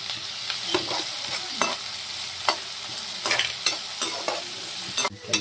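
Onions frying in hot oil with cumin for a fish curry, a steady close sizzle broken by repeated scraping stirs of a utensil against the pan.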